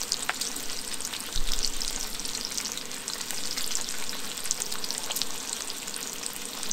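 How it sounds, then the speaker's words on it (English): Bacon frying in a pan on a propane camp stove outdoors in the desert, a dense close crackling sizzle with scattered sharp pops and a steady hiss, no talk. "the sound of propane out in the wilderness and also bacon cooking"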